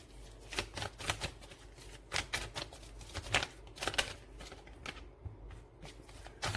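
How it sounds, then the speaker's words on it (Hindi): Cards are shuffled and drawn close by, producing a rapid series of crisp riffling and snapping bursts with soft rustling between, fading quieter near the end, with no talking. "Oh wait, let's pull these cards."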